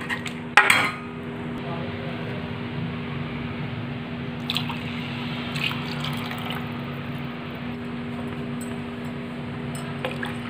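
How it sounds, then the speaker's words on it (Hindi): Water goes into a pot of kadhi on the stove, with a clatter of metal utensils at the start, then a soft ongoing pour and bubbling in a quiet kitchen. "अब मैं इसमें पानी ऐड कर लूँगी।"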